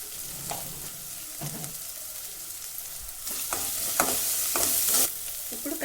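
Half a spoon of ginger garlic paste frying in a pan for dry fish curry, a steady sizzle broken by repeated spatula scrapes that grow louder and more frequent midway, close up and with no talking.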